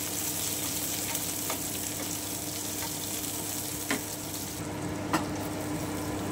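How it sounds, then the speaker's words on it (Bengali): Chopped onions fry gently in a wok in a home kitchen, a steady close sizzle with a few soft stirring clinks, no talk over it. "আমি হালকা করে একটু ভেজে নিচ্ছি পেঁয়াজগুলোকে"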